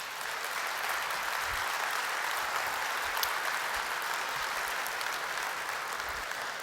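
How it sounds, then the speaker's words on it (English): Crowd applause at a Las Vegas show, a broad, even wash of many hands clapping that holds steady at a moderate distance for several seconds without voices over it. "Everybody please give my wonderful wife Jamie a round of applause."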